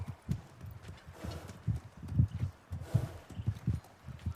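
A kelpie's hooves clop at a walking pace in the video game God of War Ragnarok, an uneven run of soft, close thuds without speech.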